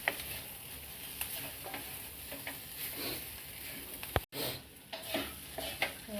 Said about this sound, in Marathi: आणि हे चांगलं सुट्ट होईपर्यंत परतायचं